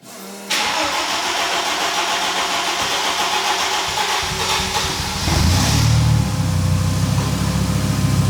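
An Audi engine cranks on its starter motor with a resonant whir, then catches and settles into a steady, loud idle close by.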